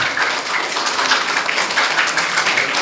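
Applause at a human rights seminar, many hands clapping together in a dense, even patter that carries on briefly with no voices over it.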